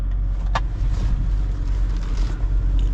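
A 6x6 Jeep Gladiator without power steering rumbles through a slow turn, giving a steady low engine drone with wind buffeting across the microphone and one brief sharp squeak.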